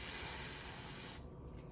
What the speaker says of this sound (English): I'm going to spray the glue on my forehead